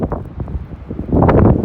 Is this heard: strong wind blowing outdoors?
yes